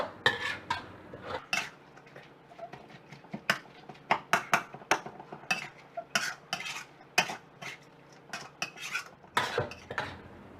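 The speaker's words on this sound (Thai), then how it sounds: "ใส่ลงไปผัดให้หอมก่อนนะคะ" Pork and garlic stir-fried in a wok, with a spatula scraping and clanking against the metal in quick, irregular strokes over a faint sizzle, steady throughout with no talking.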